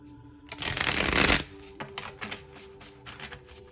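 A deck of tarot cards is shuffled in one loud riffle lasting about a second, followed by several softer card taps and flicks, close by.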